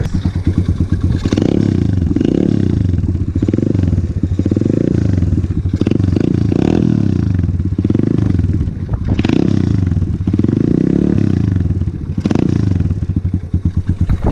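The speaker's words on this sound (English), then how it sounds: "I'm gonna let y'all hear that new exhaust too" A Coolster 125cc pit bike engine, cold-started with a new exhaust, runs loud and close, popping and revving in repeated bursts through the exhaust, with rattling mechanical clatter between throttle blips.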